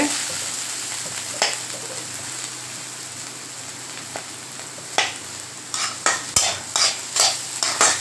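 Cooked beetroot stirred in a pan, quiet background sizzle broken by a few scrapes early on, then a quickening run of sharp spoon-against-pan knocks and scrapes toward the end.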